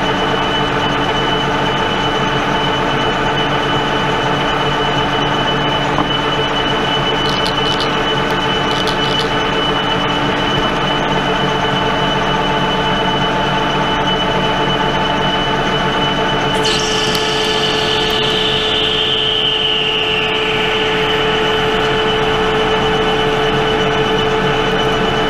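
A Pratt & Whitney Model B metal lathe cuts steel, a continuous steady mechanical hum with tonal whine, joined midway by a sharper, rising cutting squeal as the tool bites into the workpiece; no talking.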